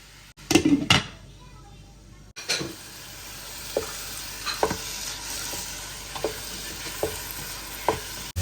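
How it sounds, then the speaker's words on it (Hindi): Pumpkin being cooked in desi ghee in a covered pan over a low flame for halwa, with a soft steady sizzle under several sharp clatters of a spoon or lid against the pot. "हलवा कद्दू जो पानी छोड़ेगा ये उसी में गल जाएगा और फिर इसको भून लेंगे हम"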